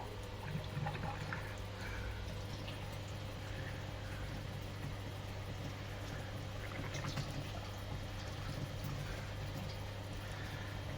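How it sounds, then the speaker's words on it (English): Water being flushed through a HERMS coil during homebrew beer making: a faint, steady pouring and trickling hiss that runs on evenly throughout without talk. "where we flush out the Herms coil"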